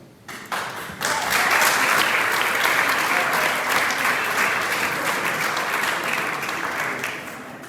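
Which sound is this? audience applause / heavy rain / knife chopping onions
audience applause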